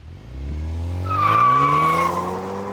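A 2021 Hyundai Veloster N with dual-clutch transmission accelerates hard in first gear on a track course. The engine note climbs steadily and loudly, close and continuous, and a rising whine sits over it.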